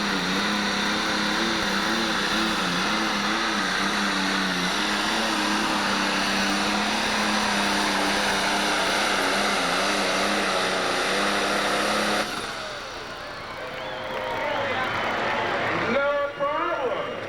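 A John Deere pulling tractor at a 1998 12,000 lb Pro tractor pull in Taylorville, Illinois, roars loudly and steadily as its engine revs, with an announcer talking over it before the roar drops off near the end.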